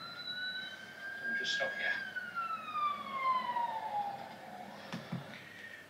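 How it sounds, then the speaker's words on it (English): A large fire engine's siren wails past in a long, gliding tone that slowly falls in pitch, moderately distant and steady, while people talk nearby. "And there's a great big fire engine coming."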